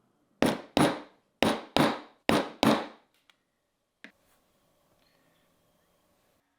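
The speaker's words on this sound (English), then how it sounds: "After wetting the leather, I start with my corner stamp in all four corners. I gave it a couple good whacks" A mallet strikes a metal corner stamp on wetted leather for a sketchbook cover, giving six sharp, loud knocks in quick pairs and then a single fainter tap after a pause, each hit ringing briefly in a quiet room.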